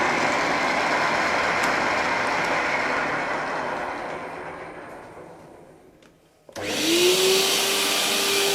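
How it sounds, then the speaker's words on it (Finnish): Vacuum cleaner with a clogged hose, a steady loud broadband roar that slowly strains and fades, cuts out briefly, then restarts with a rising whine. "tää taitaa olla tukossa tää imuriletku"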